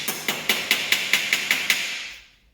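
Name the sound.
hammer forming sheet metal flange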